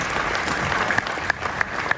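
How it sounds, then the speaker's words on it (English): Brief applause from a conference audience at a wealth seminar, dense clapping with a few sharp louder claps standing out, fairly close and sustained. "Yeah, round of applause."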